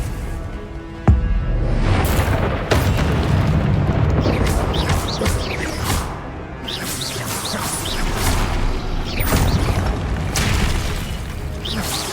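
Repeated Confringo blasting curses burst in Hogwarts Legacy combat, a sharp boom near the start followed by a dense, continuous barrage of fiery explosions, whooshes and crashes.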